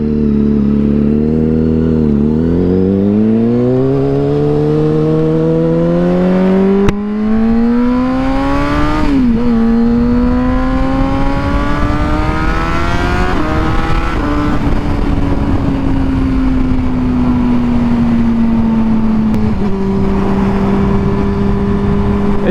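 A 2008 Honda CBR600RR sport motorcycle engine revs up through several gears into sixth, pitch climbing then dropping at each shift, loud and close throughout.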